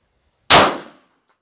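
A single sharp rifle shot fired as the final round of a handloaded ammunition test, loud and close, with a quick fading tail and silence before and after.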